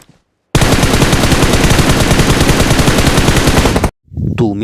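Automatic gunfire in the mobile battle royale BGMI on the Livik map: a loud, continuous rapid burst lasting over three seconds, then a brief stop and a short follow-up sound.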